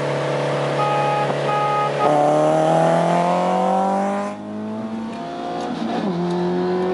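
A Renault Megane RS accelerates hard through the gears in a drag race, its engine rising loudly in pitch, dropping with a gear change, then climbing again toward the limiter, heard close up from inside.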